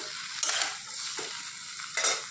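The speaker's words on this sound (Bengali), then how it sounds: "এখানে দেখো ফুলকপি আলু সয়াবিনটা কষিয়ে নিচ্ছি ভালো করে" Cauliflower, potato and soya chunks being sautéed and stirred in a pan, with a steady sizzle and two louder scraping stirs near the start and end, close up and with no voices.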